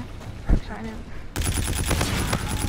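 Rapid automatic gunfire in the shooter Call of Duty: Infinite Warfare bursts in sharply after a quieter moment with a single thud, then runs as dense, loud volleys, with a player's voice heard in the mix.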